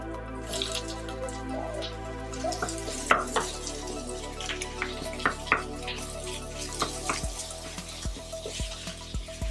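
Chicken pieces go into a pan for chilli con carne, giving a steady sizzle and frying crackle with scattered clicks and stirring scrapes, up close with no talk.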